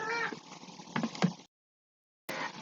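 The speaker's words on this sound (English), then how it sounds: "sorry about the meowing, that's just a new kitty of mine" A kitten meows a few times at close range over a low background hum, then the sound cuts out briefly before the hum resumes.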